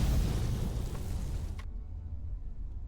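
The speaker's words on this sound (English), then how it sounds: "You hear this explosion." A sound-effect explosion sets off in an online tabletop vampire role-playing game, a loud broad rumbling burst that holds for about a second and a half, then cuts off sharply and leaves a low hum.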